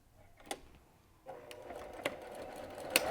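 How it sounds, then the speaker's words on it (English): A sewing machine stitches down the lining of an insulated lunch sack in short bursts, close and clear, with brief clicks and a quiet pause before a faster, steadier run of stitching. "stitching it down by machine"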